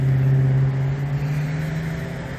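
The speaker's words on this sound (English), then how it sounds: "That's my truck, my other truck." A truck engine runs nearby in a steady low drone with a faint tonal hum, holding a fairly even level throughout, with no voices.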